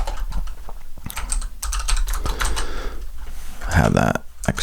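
Fast clattering keystrokes on a computer keyboard while typing Python code, close and fairly loud, with irregular bursts of key clicks and a few heavier thumps.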